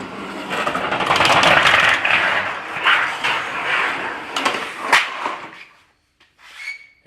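Sheet metal being cut with a cutoff tool while set on a commercial brake, a loud, harsh grinding rasp that runs for about five seconds with scraping bursts before it tapers off into near silence.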